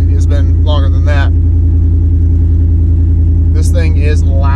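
A 1998 K1500 pickup truck with a swapped 5.3 engine idles loudly and steadily up close, a deep constant rumble, with someone talking briefly over it twice.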